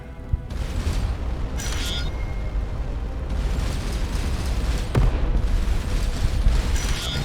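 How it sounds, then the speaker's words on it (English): Plasma cannons fire in a space combat video game. Several heavy booming blasts ring out, with bright bursts near 0.5, 1.8 and 5 seconds over a continuous rumbling combat roar. "Three plasma cannons is pretty powerful"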